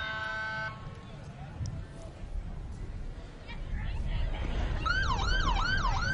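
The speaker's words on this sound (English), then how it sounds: "I hear lots of sirens, and I see lots of flashing red and blue lights as I look down Concho." Wailing emergency vehicle sirens sweep up and down at a Veterans Day parade, starting faint and growing louder and closer toward the end over steady street noise, with a voice talking through it.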